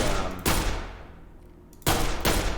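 Gunshots in the Prison Simulator game, a few sharp, loud, close cracks with short decaying gaps between them.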